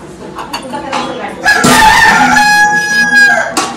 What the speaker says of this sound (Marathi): कोंबड्या नुसतं बोंबलते